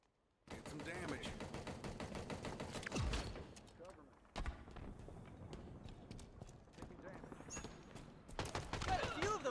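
Gunfire in Halo Infinite, a rapid run of sharp shots firing in bursts with brief pauses, a louder blast near the middle, mixed with game effects.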